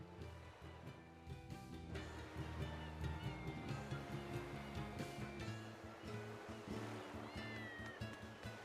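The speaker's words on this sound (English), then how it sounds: "I hear a cat" A cat meows a few times in the Tales of Berseria video game, layered over steady ocean waves and a foggy sea ambience with a low musical drone.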